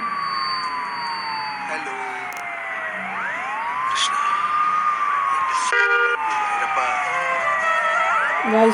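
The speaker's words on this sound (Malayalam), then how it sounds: "എവിടുന്നൊക്കെ ആംബുലൻസ് ശബ്ദം കേൾക്കുന്നുണ്ട്" An ambulance siren wails up and down in the distance over busy street noise and faint crowd murmur near Kochi bus stand, with a couple of sharp horn beeps.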